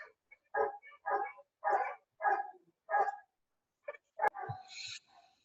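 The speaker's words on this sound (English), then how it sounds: "Oh, dogs." Dogs bark in a quick series of about eight sharp, evenly spaced barks at moderate distance, ending with a higher yelp and a short whine.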